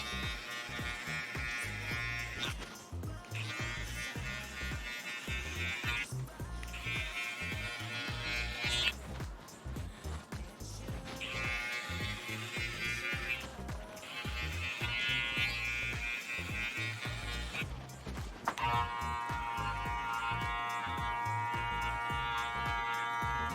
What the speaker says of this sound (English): trim all of this bald. Only with a trimmer, never with a razor